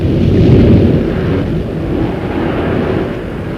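A 1958 radio drama sound effect of a stormy sea and howling wind: a loud, continuous low roar and rumble of surging waves and gusts, steady throughout.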